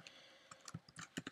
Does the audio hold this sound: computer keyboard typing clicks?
yes